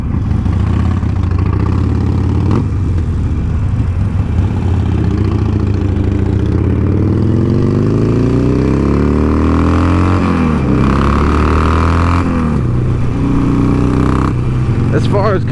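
Engine of a 2020 Harley-Davidson Sportster 48 cruiser on the move, a deep rumbling note rising and falling as the rider revs through gears, with someone talking over it.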